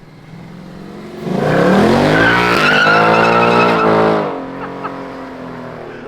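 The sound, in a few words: Ford Mustang driving away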